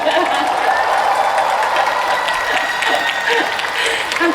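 Loud, sustained applause from a large outdoor festival audience at a film premiere stage greeting, dense clapping filling the whole stretch without a break.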